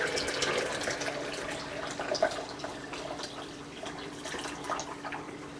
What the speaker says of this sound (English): take my hot water that I boiled in my electric kettle here and just pour it into